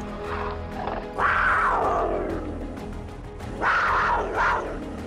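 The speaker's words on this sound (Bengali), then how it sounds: "প্রচণ্ড গর্জন করে জন্তুটা সাউদার্নটনের দিকে লাফিয়ে পড়ল" A large black cat gives two heavy roaring snarls as a dramatic story sound effect, each a loud rising-then-falling growl over a low rumbling bed, the second shorter and doubled.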